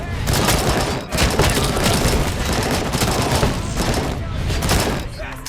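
Sustained, dense gunfire from a RoboCop: Rogue City shootout, loud rapid bursts and booming shots overlapping without pause, with a voice calling out over the battle.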